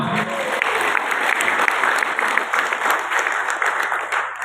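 Loud, continuous crowd applause fills a seminar hall at a biotech microbial fertilizer presentation, a thick steady patter of many hands clapping close by without a break.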